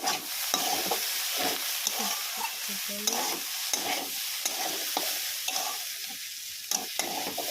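Vegetables for a vegetable paratha filling, with chilli added, stirred in a frying pan: a steady crackling sizzle runs throughout, broken by repeated scraping and clattering strokes of the spatula, close and fairly loud, with no talking.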